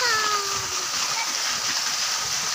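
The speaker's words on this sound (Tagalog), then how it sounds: "Yan, may falls po dito." Steady broadband rush of a waterfall splashing outdoors in the Philippines during a family jog, continuous and fairly loud, with a voice speaking briefly over the start.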